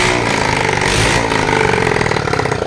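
A Bajaj Boxer 150 motorcycle engine running with no exhaust pipe fitted, after sitting unused for five years, a loud, raw, clattering rumble that holds steady throughout with no talk over it.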